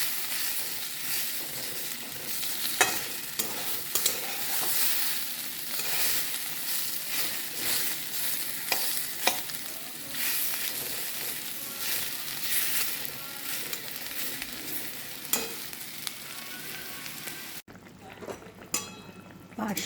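Parshe fish frying in a pan with mustard, green chillies and chilli powder, a steady close crackling sizzle with occasional sharper pops, cutting off near the end to quieter room sound.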